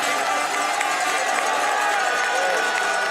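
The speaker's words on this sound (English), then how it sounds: "the crowd go crazy" Spectators roar and cheer along the course at a cyclocross World Cup race as Van der Poel battles a young rival, a dense, steady wash of crowd noise with no pause, overlaid with an announcer's voice.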